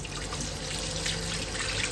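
Steady tap water runs into a sink while a couple of dates are washed by hand, a continuous close splashing stream with faint dripping and no talk.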